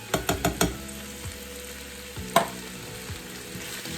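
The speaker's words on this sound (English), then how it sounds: "And then I stir, letting that heat through" Manwich sauce being stirred into fried meat in a pan, with a few quick scraping stirs at the start, steady sizzling throughout and another clear stir near the end.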